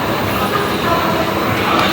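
A train rumbles loudly and steadily at a railway station, a dense continuous roar of rolling wheels and machinery close by with no clear voices.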